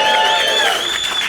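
Studio audience on a rugby comedy panel show breaks into a loud, dense round of applause mixed with cheering and whoops, sustained and close throughout.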